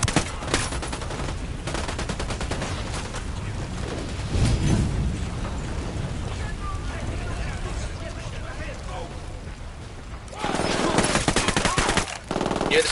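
Gunfire from a sniper in the video game Ghost Recon Wildlands rings out as loud, dense cracks across the clip, layered over a shouting voice and busy game noise, with a heavier burst near the end.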